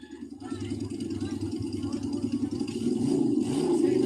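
A loud motorcycle engine runs steadily and close, swelling louder toward the end, while a voice can be heard faintly underneath.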